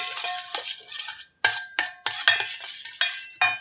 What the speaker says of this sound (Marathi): दह्यामध्ये टाकी थोडीशी साखर मिक्स करून घेते